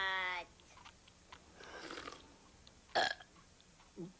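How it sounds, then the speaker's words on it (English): A cartoon boy burps during a burp contest at home, one long harmonic belch opening the clip, followed by a quieter stretch and a second short burst near the end. "We're having a burp contest, Mom."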